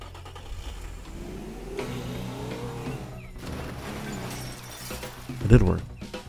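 A car engine in the video game Teardown, driving around a race track, revving at mid pitch with a brief tire squeal and a crash-like burst near the end; people talk over it throughout.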